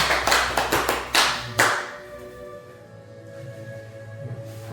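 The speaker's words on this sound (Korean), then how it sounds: "가정을 위해서도 박수를 보내주시기 바랍니다." Brief applause from a church congregation offering congratulations at the close of a Sunday service, several quick bursts of hand claps over about two seconds that die away, leaving a sustained low musical tone and room hum.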